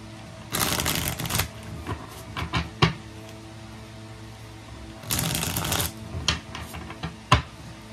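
Tarot cards are shuffled in two brisk riffling bursts, each followed by a few sharp taps and clicks as the deck is squared, close and alone.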